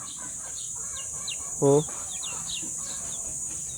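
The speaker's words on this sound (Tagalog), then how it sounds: "Naglabasan yung mga manok natin ah." Chickens scattered loose around a yard cluck and chirp faintly at a distance, with one louder, closer squawk in the middle; a person says a single brief word.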